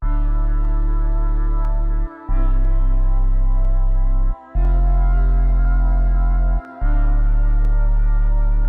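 A dark hip-hop beat loop built from a moody synth layered with a choir pattern, piano and deep sub bass. It plays as a loud, dense sustained wall of sound, cutting out briefly three times.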